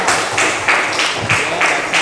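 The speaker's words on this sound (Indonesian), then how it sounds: "Kita berikan tepuk tangan untuk Fajri." Brief applause for a student named Fajri in a classroom after a Quran recitation, a small group clapping in uneven bursts, fairly close and moderately loud.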